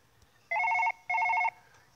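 A phone in the mobile game Surgeon Simulator rings with two short, even electronic trill bursts separated by a brief gap, clear and alone over a quiet background.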